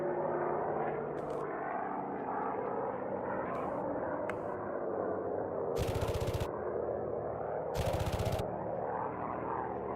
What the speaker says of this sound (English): Fuomon's tail gunner trying to get some hits on CD